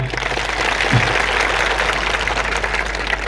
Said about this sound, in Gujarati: સૌ માટે એકવાર જોરદાર આપણે તાળીઓ પણ લઈએ